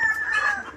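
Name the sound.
chickens, laying hens, clucking and crowing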